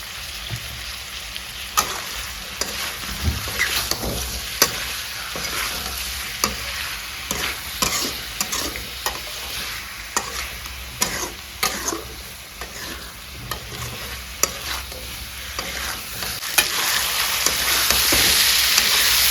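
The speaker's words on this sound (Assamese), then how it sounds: "হালধি আৰু নিমখ দিলোঁ দিলে ভাজি আছিলোঁ" Pork frying with turmeric and salt for a curry, a continuous crackling sizzle punctuated by frequent sharp taps and scrapes of a spoon stirring in the pan, growing louder toward the end.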